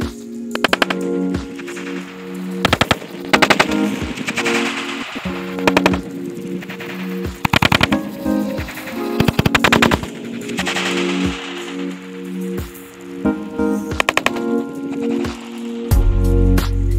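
Homemade firecracker device lit with a match, crackling in rapid bursts of sharp pops and bangs like gunfire, loud and close, stopping and restarting over several seconds.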